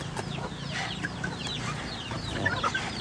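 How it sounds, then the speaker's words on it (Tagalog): Native and Rhode Island Red cross chickens cluck steadily at close range on a farm, with overlapping calls and a few sharper squawks over continuous low background noise. "Tapos ito yung mga ano natin na mga manok. Cross na siya ng native at Rhode Island Red."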